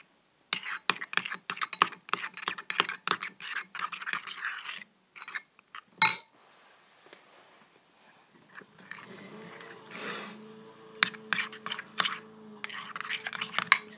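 Homemade Halloween slime of glue and laundry detergent is stirred by hand, giving rapid wet clicking and squelching bursts, a pause, then slower sticky squishes and more quick clicks, close and fairly loud, no voices.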